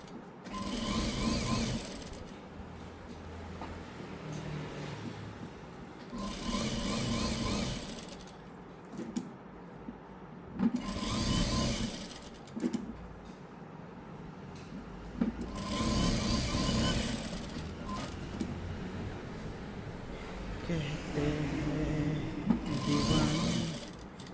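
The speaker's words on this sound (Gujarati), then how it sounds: "હવે આપણે સીધી સિલાઈ લગાવી દઈએ." A sewing machine runs a straight stitch joining blouse lining to the main fabric, coming in several whirring bursts separated by short pauses, close by with faint background noise.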